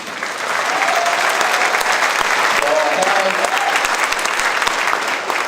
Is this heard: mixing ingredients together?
no